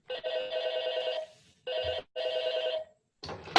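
A telephone bell rings in an old-style radio drama, three close, loud bursts of bright metallic ringing separated by short gaps, the last cut off by a clatter as the receiver is picked up.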